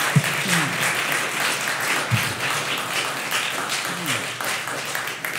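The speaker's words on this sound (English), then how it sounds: "Let's give a round of applause to everyone here." Steady applause from a crowd fills the room, dense clapping throughout with a few scattered voices mixed in.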